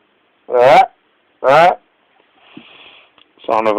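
A human voice imitates a baboon call: two loud harsh barking bursts about a second apart, a quiet hiss, then a third burst beginning.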